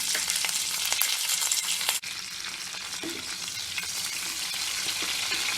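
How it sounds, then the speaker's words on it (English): Green chilies and curry leaves crackle and splatter in hot oil with asafoetida, a steady, dense sizzle running throughout with a brief dip near the middle. "So green chilies and curry leaves are nicely splattering"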